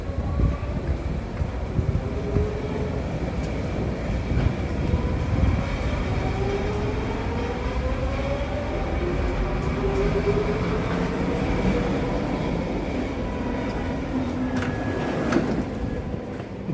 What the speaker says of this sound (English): Oh, speaking of SkyTrain, here's the Expo line.